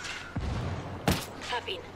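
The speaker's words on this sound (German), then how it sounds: "ich schieße und schieße und die sterben nicht" A couple of sharp gunshot bursts crack over a busy background while a voice talks, in the video game Ghost Recon Wildlands.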